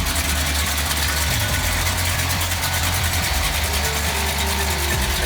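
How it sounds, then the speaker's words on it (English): A 1967 Chevy Impala idles while its brake vacuum assist pump clicks in a fast, steady ratcheting rhythm over the low engine rumble, close and continuous. "That sound you hear is a brake pump vacuum assist."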